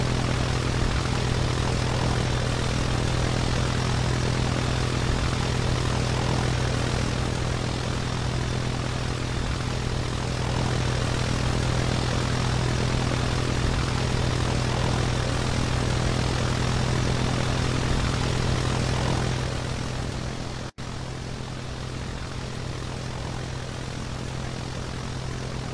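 Cessna R182 retractable-gear light aircraft propeller engine in the Roblox flight game Aeronautica, a steady, loud droning hum held unbroken throughout with a strong low tone, briefly dipping near the end.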